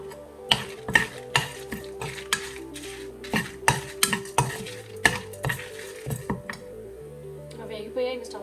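A spoon scrapes and taps rhythmically against a pan while toor dal fries with cumin, red chillies and garlic, giving a series of sharp clinks over a soft sizzle.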